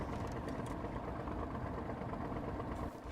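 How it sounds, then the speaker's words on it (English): A truck engine idling and fluttering in the video game SnowRunner, a low, steady throbbing rumble that holds evenly, then drops slightly near the end. "I like the sound of the engine just fluttering like that"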